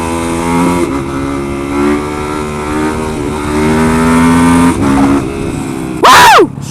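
Motorcycle engine held at high revs while the rider pulls a wheelie, a steady droning roar that rises and dips with the throttle, ending in a sharp, loud rising whine.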